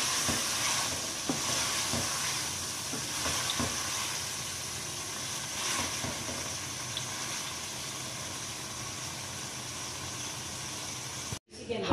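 Chicken karhai being stirred in a pan: a continuous soft sizzle and hiss runs throughout, with occasional light scrapes and taps of the spoon, a quiet, close cooking sound that ends in a sudden brief cutoff.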